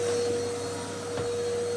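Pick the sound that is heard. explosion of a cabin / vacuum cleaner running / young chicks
vacuum cleaner running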